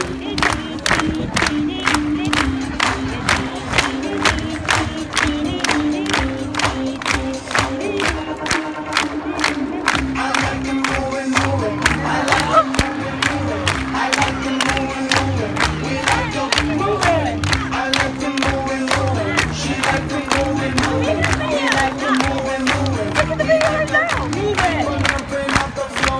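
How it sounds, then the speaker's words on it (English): At a sea lion performance, an audience claps steadily along to upbeat music, the sharp, regular claps running the whole time with crowd noise and scattered cheers mixed in. "start clapping along to help us keep the rhythm"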